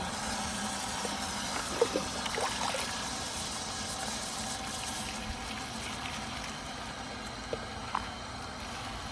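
Water trickling steadily onto dry garden soil around potted plants, a soft continuous pour with a few faint clicks, fairly quiet and with no talk.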